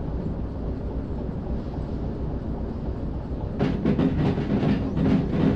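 A heavy 300-ton freight train rolls along in the Derail Valley railway game, a dense low rumble that thickens midway into rhythmic clickety-clack of wheels over rail joints.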